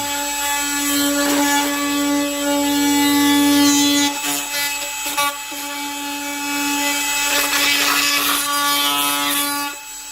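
A loud Hitachi power tool set on speed 5 runs with a steady droning whine while cutting cardboard, its pitch dipping briefly under load and rising again, close and continuous throughout.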